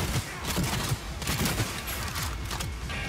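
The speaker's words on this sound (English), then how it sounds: "I like that shotgun, that shotgun's good." Shotgun blasts from the game Cyberpunk 2077 boom in rapid, repeated heavy bursts amid the ongoing combat noise.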